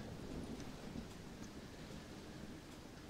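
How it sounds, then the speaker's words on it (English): Steady rain and a low rumble of thunder fill a stormy night in the Western zombie game Red Dead Redemption: Undead Nightmare, a continuous dense wash with no voices. "Well, it's just the storm, John."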